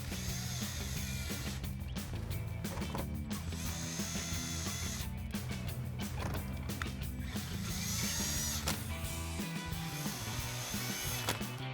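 A power driver runs 7mm screws back into the plastic splash guard of a 2018-2022 Ford Mustang. It gives repeated bursts of whirring and ratcheting, close up and continuous, with short pauses between screws.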